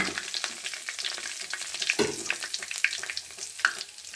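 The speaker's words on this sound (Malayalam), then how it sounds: "ചട്ടിയിലേക്ക് ഒരല്പം എണ്ണ ഒഴിച്ചു കൊടുക്കാം അതിലേക്ക് ഗ്രാമ്പു പൊടിച്ചത് പിന്നെ രണ്ട് വെളുത്തുള്ളി" Ground clove and garlic fry in hot oil in a pan, a close, steady bubbling sizzle with small pops and occasional stirring scrapes, fairly quiet and without voices.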